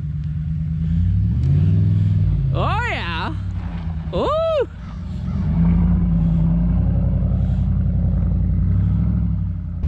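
A RAM 1500 pickup truck's engine rumbles and revs as it tries to spin in snow after sliding into a ditch, a steady low drone throughout with brief exclamations from people nearby.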